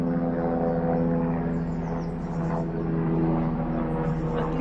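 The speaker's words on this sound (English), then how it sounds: "At least you can hear the airplane now as well." A steady low drone of an airplane passing overhead, a continuous broad rumble with engine hum that holds fairly even throughout, with faint outdoor background.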